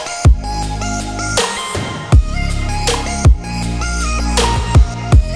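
A future bass synth bass line using the Bass Mean preset plays over a steady kick pattern, with deep sustained bass notes following the rhythm of punchy drum hits, loud and upfront with no voice.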